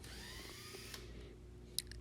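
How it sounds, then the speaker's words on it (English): A drill with a Phillips bit backs out the screws of a door strike plate, giving a steady whirring hum that fades away about halfway through, then a couple of faint clicks. "using your drill with the Phillips bit, unscrew the two screws for the strike plate"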